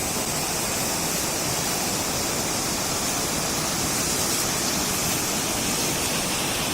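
A mountain river beside a forest trail on a Himalayan trek rushes with a loud, continuous wash of broadband water noise that stays steady throughout, with no voices.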